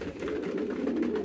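Pigeons on a pigeon farm give a soft, continuous throaty cooing, close and steady, with no voices.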